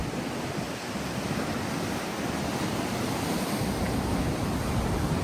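High sea waves crash and surge along the shore at Dwarka, a loud, unbroken rush of surf with wind noise and no voices.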